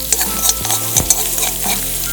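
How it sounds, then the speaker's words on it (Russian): Pork fat frying in a cauldron over a grill fire, a steady close sizzle with a few sharp scraping clicks from stirring, no voices. "ставлю казан на огонь и выкладываю в него нарезанное сало"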